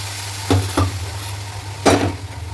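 Semolina upma stirred in a frying pan gives a low sizzle with three distinct scraping strokes of a spoon against the pan, two close together and one later, with no voices.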